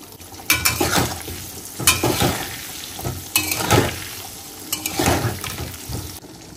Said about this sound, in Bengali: এইদিকে আমি তেল বসিয়েছি মাটনের আলুটাকে ভেজে নেব বলে